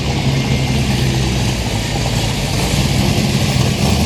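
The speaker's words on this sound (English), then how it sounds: "There's a Mustang, a couple of Mustangs come in." Ford Mustangs pulling into a Mile End car meet, a steady loud engine rumble holding close and even throughout, with no voices.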